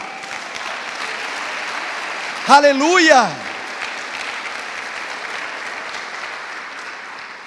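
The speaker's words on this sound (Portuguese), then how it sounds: "Quem crê, aplauda o Senhor." A church congregation breaks into a short burst of applause that lasts about a second, while a preacher's loud, sung exclamation rides over it. A quieter background hum continues before and after.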